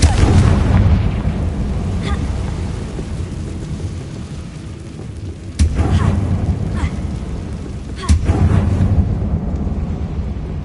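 Confringo spell explosions in a Harry Potter video game: deep rumbling booms over a steady roar, with sharp blasts at intervals as new bursts hit, heavy and close.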